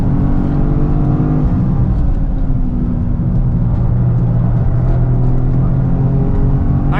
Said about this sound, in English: Quick, crisp shifts there from the 8-speed auto.